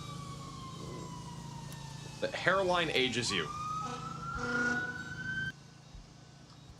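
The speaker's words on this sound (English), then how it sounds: "More sirens going off over here in Charleston." Emergency sirens sound in Charleston during a severe tornado storm, a steady wail gliding upward while people talk briefly over it, then the siren cuts off and leaves a low background hum.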